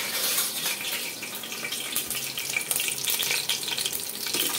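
Spices, including star anise, sizzle in hot oil in a pot while a ladle stirs them, a steady bright frying hiss with soft scraping, close and alone.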